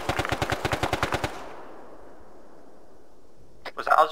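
A rapid burst of about a dozen automatic gunshots in the Arma 3 military game, loud and close, then a fading echo and quiet before a voice starts at the end.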